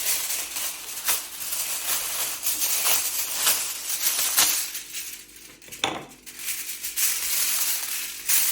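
Aluminum foil is torn and crinkled by hand in a kitchen while salmon is prepared, giving continuous close, loud crackling and rustling with sharper crunches throughout.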